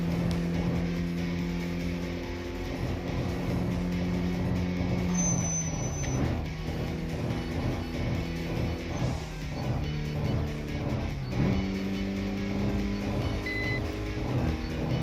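A car engine racing in the Tokyo Xtreme Racer video game, a continuous revving drone with repeated rising gear pulls and shifts, steady and close.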